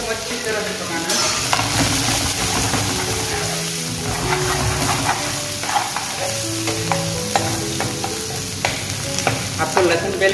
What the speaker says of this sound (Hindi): अब हम डालेंगे प्याज। प्याज को 1 चम्मच की तरह से पकाना है।